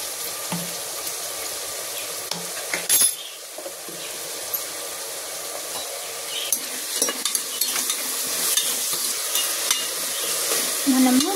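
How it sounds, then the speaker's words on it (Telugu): Sliced onions fry with ginger garlic paste in a pan for biryani, a steady sizzle with occasional stirring and utensil scrapes throughout. "ఆనియన్స్ వేగేటప్పుడే 1 టేబుల్ స్పూన్ అల్లం వెల్లుల్లి పేస్ట్ వేసేసుకుందాం."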